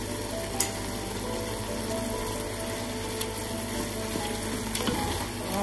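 Mallow and garlic stirred together in a cooking pot for a Moroccan dish, a steady soft scraping and low simmer throughout with a few brief clinks, close and alone.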